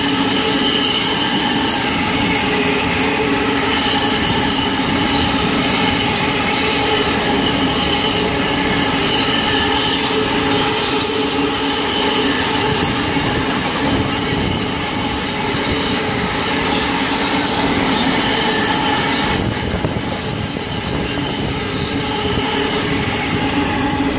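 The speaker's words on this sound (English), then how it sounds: "Has caught up just as the end of the Hunter Valley coal train." A long Hunter Valley coal train passes at Beresfield, close and loud, with a steady rumble and wheels squealing and clattering for the whole stretch. No one talks.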